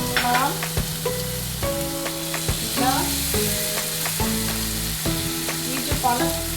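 Chopped vegetables and capsicum hit a hot frying pan with a loud, continuous sizzle. Spoon clinks and scraping stirs sound over it as they are tossed in oil.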